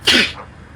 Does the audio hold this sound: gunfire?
no